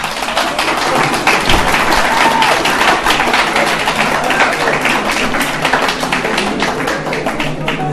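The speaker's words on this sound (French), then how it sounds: "C'est bien d'applaudir" A lecture audience claps steadily through the full eight seconds, a dense, even wash of hand claps with a few louder taps standing out near the start.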